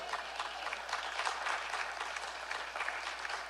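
An audience in a church claps together in steady, dense applause during a Spanish-language sermon, moderately loud and sustained throughout without a break.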